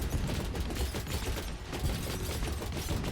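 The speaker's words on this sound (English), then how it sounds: "Look at those bullets go" Rapid, continuous stream of split-shot bullets firing in the roguelite shooter Neon Sundown, a loud mechanical rattle of overlapping shots with no pauses.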